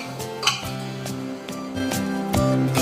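Metal spoon clinks and scrapes in a pan as beef is mixed with ginger, garlic, shallots and salt for a Kerala-style beef fry, several sharp knocks at an uneven rhythm, close and clear with no talking.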